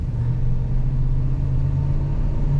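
A low, steady engine drone with a heavy rumble, a 2015 Ford E-350 shuttle bus with a 5.4-liter Triton V8 accelerating, continuous and fairly loud throughout, heard from inside the cab.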